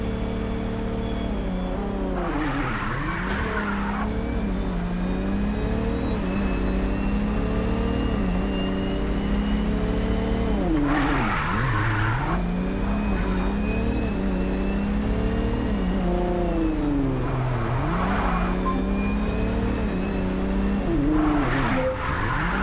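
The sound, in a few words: car driving and skidding in the video game Mindseye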